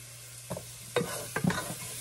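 Ground cumin browning in a hot pan, heard as a faint steady sizzle broken by three scraping stirs of a spoon against the pan at roughly half-second intervals.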